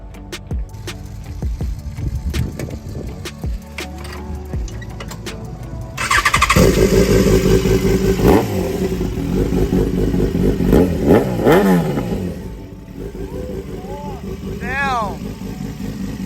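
A Yamaha motorcycle fitted with an R1 engine cranks and fires up, then revs in rising and falling bursts close by, with people talking over the idle before the engine starts.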